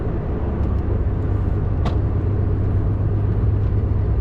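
Steady close engine and road rumble from a car cruising on a UK motorway on a delivery run to Bristol, continuous and even throughout with one brief hiss partway through.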